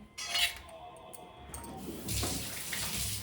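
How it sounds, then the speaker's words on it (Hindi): Tap water runs into a sink for hand washing, a steady close hiss that grows louder and fuller partway through as the flow strengthens or hands move under the stream, with no talk. "हाथ धो पहले"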